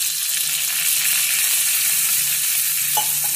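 Water poured into a hot pan of tempering with curry leaves for instant rawa dhokla sets off a loud, steady hiss of sizzling and frying, with faint stirring clinks near the end and no talk.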